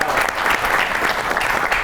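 Studio audience clapping loudly and continuously for a singer on a talk show, a dense close wash of applause with no pauses.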